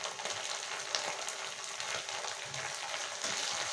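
Chopped coriander leaves fry in oil alongside onion and ginger paste, giving a steady, close hiss of sizzling with faint crackles throughout and no voices.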